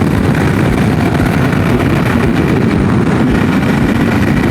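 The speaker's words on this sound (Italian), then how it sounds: "Mamma mia come va sta moto." Ducati DesertX motorcycle engine running while on the move, a steady loud drone with constant wind rush over the whole stretch, no talking.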